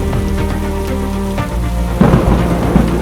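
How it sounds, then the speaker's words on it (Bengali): Heavy rain and a low rumble of thunder during a thunderstorm with strong wind on a haor wetland, loud and steady, with a surge in the downpour partway through and no voices. "তারপর শুরু হলো ঝড়, প্রচণ্ড বাতাস, মুষলধারে বৃষ্টি"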